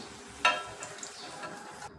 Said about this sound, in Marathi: तर भजी आहे ती मी सगळी तळून घेणार आहे